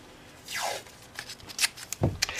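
A piece of tin foil is handled during paint masking on an FZR motorcycle wheel restoration, giving a few close, crisp crinkling rustles and sharp crackles in bursts over roughly two seconds.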